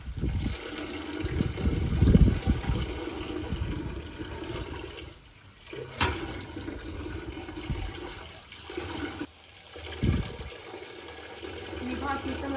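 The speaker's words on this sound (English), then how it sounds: "not happy with the sound of the water fountain" A garden water fountain runs with a steady trickling, splashing wash of water, interrupted by brief bumps and handling noises as someone works nearby.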